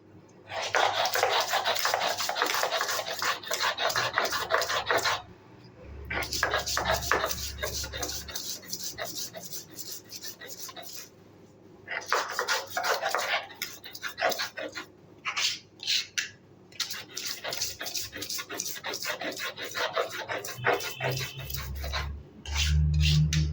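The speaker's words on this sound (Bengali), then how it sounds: "তাহলে আমি আদাটাকে বেটে নিচ্ছি।" Ginger is ground by hand on a stone with no mixer, giving bursts of rhythmic rasping, scraping strokes that each last several seconds and are separated by short pauses.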